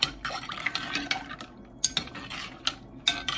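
Apple cider with cinnamon sticks is stirred in a pot, giving soft liquid swishes and a few light clinks of utensil against the pot, fairly quiet and intermittent.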